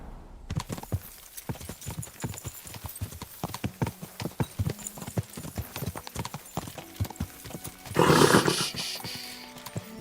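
Hooves of a ridden horse clip-clop in an open-world video game, a steady walking rhythm of close, crisp strikes with a short burst of noise near the end.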